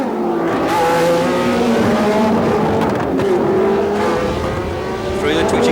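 Race cars in the 1976 US Grand Prix West on the Long Beach street circuit roar past in a loud, sustained engine drone with shifting pitch, blended with crowd and commentary-like voice underneath.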